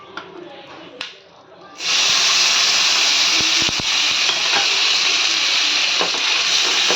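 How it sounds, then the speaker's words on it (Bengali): Spice masala sautéing in hot oil, a loud, steady sizzle that starts abruptly after a quieter opening and holds strong to the end, with occasional stirring knocks. "ভালো করে কষিয়ে যতক্ষণ না তেল থাকছে ততক্ষণ ভালো করে কষাতে হবে মশলাটা"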